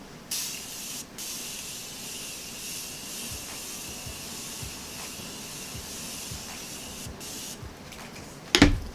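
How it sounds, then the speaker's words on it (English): A Morphe setting spray gives one continuous hissing spray lasting most of the moment, fairly close and steady, ending in a brief sharp rustle or click. "So I'm gonna use my Morphe spray."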